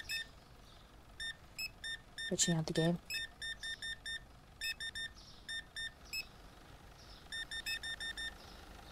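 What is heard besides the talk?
checkout scanner beeps in video game Supermarket Simulator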